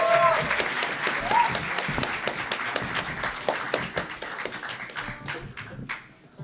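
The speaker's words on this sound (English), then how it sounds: "Let's get another round of applause for Kez." Applause and cheering fill a convention hall during a fan event, dense clapping from a large audience with a few whoops, steady before fading out toward the end.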